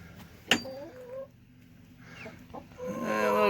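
Inside a roost, a hen gives a sharp squawk and then a few soft clucks over a low steady hum. Her calls rise again toward the end, close by and fairly faint.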